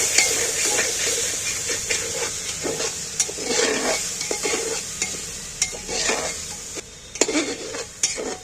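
Meat curry in a pan being stirred after half a cup of water goes in, a loud hissing sizzle with repeated scraping and clattering of the spoon against the pan, no voices.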